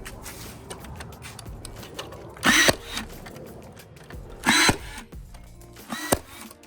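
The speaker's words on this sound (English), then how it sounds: "I'm using the nail gun to make it easy" Three loud, sharp bursts from a nail gun driving nails into a wooden trellis, spaced about two seconds apart, each a brief hiss-and-bang, with quieter shuffling and handling noise in between.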